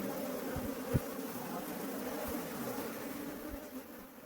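Honey bees buzz steadily around a wooden beehive box, a continuous low drone that holds through the whole stretch, with a few soft thumps and knocks near the start.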